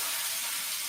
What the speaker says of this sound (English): Get that sizzle, baby.